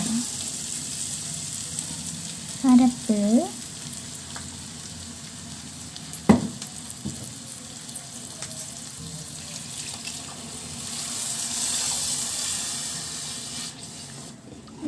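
Curry leaves and spice paste dropped into a hot pan, giving a sharp sizzle burst with a stir, then steady low frying crackle and a brief clatter near the middle.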